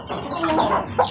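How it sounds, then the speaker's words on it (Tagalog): Chickens and chicks cluck steadily in a nearby group, a continuous close chorus of fowl calls over the full second. "At dito tayo sa sisiw."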